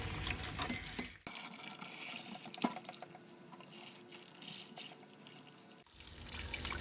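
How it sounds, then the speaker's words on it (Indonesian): Fruit being washed under a running tap: a steady splashing stream of water that cuts out for a moment and then starts again, close up, with no voices. "Pertama, buah dicuci di air yang mengalir."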